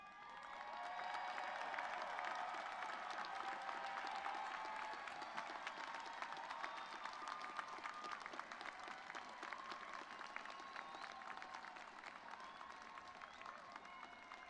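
An audience at a university commencement ceremony applauds honors graduates, sustained dense clapping from a large crowd that rises quickly and continues steadily for the whole stretch, heard from a distance with a little cheering mixed in.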